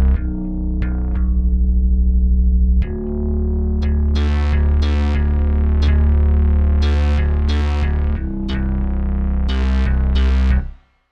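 A thick, buzzing synth bass plays sustained notes, widened with a shimmering chorus and a touch of reverb, with sharp bright attacks on some notes.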